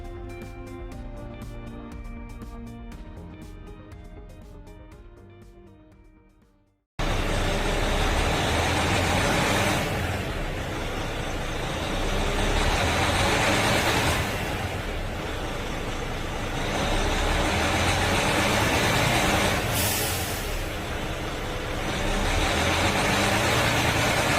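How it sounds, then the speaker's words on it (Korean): A heavy Hyundai New Power Truck diesel engine, faulty and shaking above 1300 rpm under acceleration, roars loudly and steadily, with rumbling low-end vibration and surging swells, preceded by a quieter musical intro that cuts off abruptly. "더 가속을 해서 1300rpm 이상 넘어가면 엔진 소리도 이상하고 심하게 차량이 흔들립니다"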